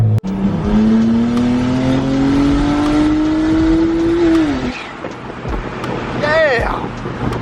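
Single turbo BMW 335i accelerating with a loud, steadily rising engine drone that builds for several seconds and then drops off sharply. A rising turbo whistle follows briefly after the drop.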